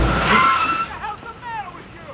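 A car horn honks in a scene from a black-and-white Fritz Lang film, steady tones sounding loud at first and then fading under lingering street noise.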